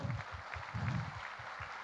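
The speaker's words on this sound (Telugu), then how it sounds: "ఒకసారి గట్టిగా చప్పట్లు కొడదాం" Audience clapping at a youth event, a brief burst of group applause with uneven claps, moderately loud and heard without talk.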